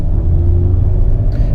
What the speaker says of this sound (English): I'm gonna take this bad boy out for a drive